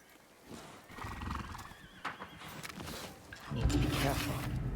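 Horse in the Ghost of Yotei video game neighing and whinnying with hoof clip-clops, fairly quiet, mixed with game voices and ambient noise.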